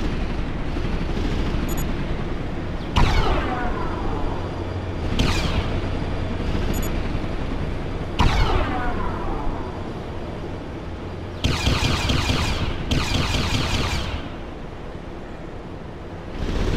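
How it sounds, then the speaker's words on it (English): Torpedo blasts tearing through a wall in Beyond Good and Evil: several loud, booming explosions spaced a few seconds apart, each with a sharp crack and rumbling decay, over a continuous low drone, with a bright hissing burst near the end. "I'll blow it to smithereens with a torpedo instead."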